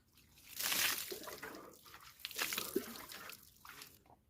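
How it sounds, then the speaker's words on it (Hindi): Stored overnight cold water poured while bathing at an ashram, splashing and dripping in irregular bursts at close range, with no talk. "रात भर का जो पड़ा हुआ ठंडा पानी है उसी से नहाना पड़ेगा"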